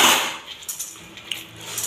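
Soybeans roasting in a dry pan while being made into salted khardane, with a few light clinks and rattles of beans against metal over a soft steady hiss.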